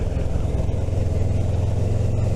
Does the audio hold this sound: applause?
no